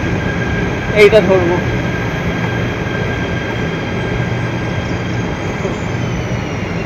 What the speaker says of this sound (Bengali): এই যে এই স্টেশনটা, এই যে ট্রেন যাচ্ছে